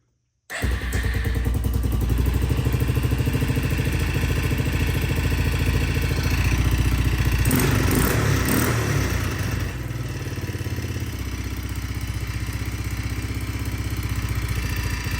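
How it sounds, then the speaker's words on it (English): An Arctic Cat 250 ATV engine starts up and runs steadily at a loud, close idle with a persistent metallic rattle, rising briefly in a rev midway before settling back. "It's still rattling, so we may need to investigate some more."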